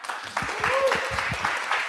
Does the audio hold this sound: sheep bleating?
no